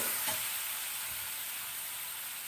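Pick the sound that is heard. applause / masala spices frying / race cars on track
masala spices frying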